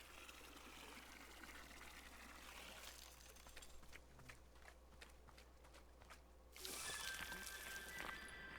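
Water pouring in the video game Wanderstop, a soft steady trickle running through most of the clip, shifting to a brighter splashing pour near the end.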